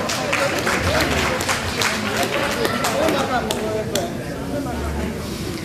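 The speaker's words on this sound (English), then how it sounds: "Let's give him a round of applause" Round of applause from an audience at a Warri community anniversary gathering in Great Britain, dense steady clapping sustained throughout with crowd noise underneath.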